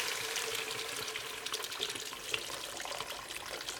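Steady rush of about 2.5 liters of water pouring into a pot of sauteed onion, a continuous splashing stream with no voices.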